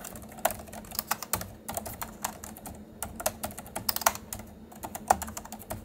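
Someone types on a Logicool Ergo K860 wireless split keyboard. The keystrokes come in a quiet, continuous, uneven patter with occasional sharper clicks, close by and unaccompanied by speech.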